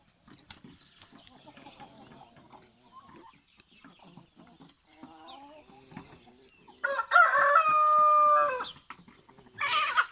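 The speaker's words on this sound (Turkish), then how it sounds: "Bunlar da bizim organik tavuklarımız." Organic chickens cluck and murmur softly at close range at sunrise, then a rooster lets out a loud, long crow, followed by another burst of crowing at the end.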